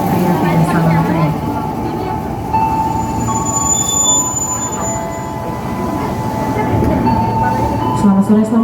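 A KAI Commuter train hums and rumbles at an Indonesian station, a steady rolling drone with a high tonal whine on top, while station announcements and voices carry over it.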